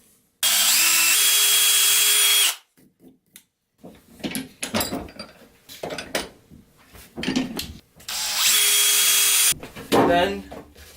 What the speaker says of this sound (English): We can throw a golf ball in our vise and drill a shallow hole into it.